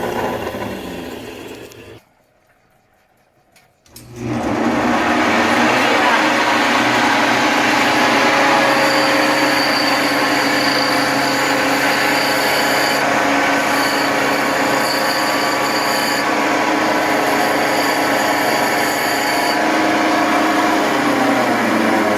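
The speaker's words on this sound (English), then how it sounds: "Now we're gonna grind." A large Ethiopian opal is ground on a lapidary wheel. A continuous loud, close grinding whine with ringing tones runs throughout, broken by a short near-silent pause near the start before it resumes steadily.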